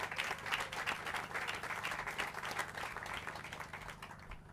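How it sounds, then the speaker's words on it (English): Crowd at an outdoor groundbreaking applauding elected officials, a fairly faint, steady patter of many hands that tapers slightly toward the end. "let's just give a round of applause to all the elected officials who took the time to come and share with us this moment today."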